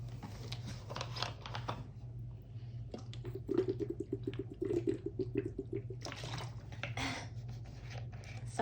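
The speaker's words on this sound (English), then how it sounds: "I really need to drink some water." A person drinks water close to the microphone, with a run of rhythmic gulping and swallowing sounds over a steady low hum, surrounded by soft clicks and rustles.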